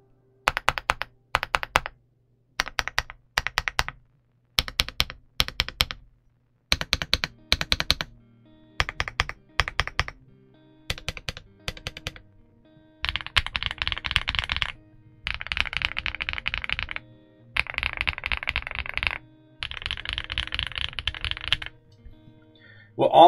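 An Ajazz AK35i V3 Max full-size gasket-mount keyboard being typed on, bursts of quick, muted clacky keystrokes separated by short pauses, then longer continuous fast typing, close and alone with no voices.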